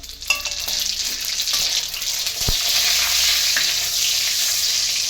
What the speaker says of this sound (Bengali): শুকনো লঙ্কা দিলাম, দিলাম ফোড়নে।